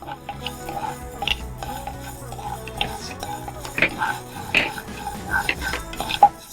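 A plate is set down in a kitchen while black urad dal laddu is being made, giving scattered clinks and clatters of dishes and cutlery against soft background sounds, with no voices.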